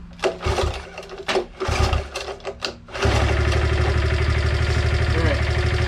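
Honda ATC70 ATV being restarted: a few seconds of clattering and cranking with a nearby voice, then the small engine catches and settles into a steady, close, buzzing idle.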